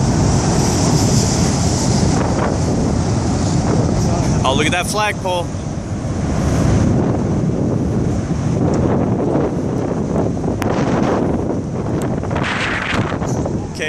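The EF5 tornado in Moore, Oklahoma roars under heavy wind buffeting the microphone, a continuous loud rushing din with a person speaking over it.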